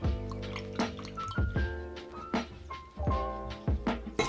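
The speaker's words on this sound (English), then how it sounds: "The next ingredient I'm gonna add is the rum." Light rum, Bacardi, poured into a glass for a mojito, close and fairly quiet, with irregular drips, liquid splashes and soft glassy clinks over a few seconds, no talking.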